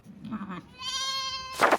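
Sheep bleating close by on a small farm where a ewe has just given birth, a short wavering call followed by a louder, harsher second bleat.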